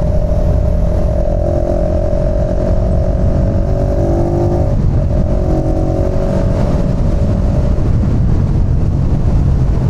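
A car passes on a road at night, heard as a steady, loud rush of engine and tyre noise with a smooth whine that rises and falls over about ten seconds, and no voices.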